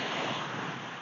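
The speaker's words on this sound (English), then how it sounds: "the waves are constantly coming in and out" Ocean waves washing up and back on a sandy beach, a close, steady rush of surf that fades slightly toward the end, with no voices.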